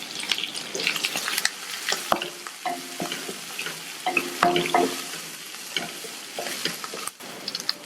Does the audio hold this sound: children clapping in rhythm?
no